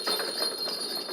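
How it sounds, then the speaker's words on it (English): A ball with bells inside rolling across a floor, giving a quick continuous jingle of small bells that rattles unevenly as it tumbles. "It has bells in it, obviously."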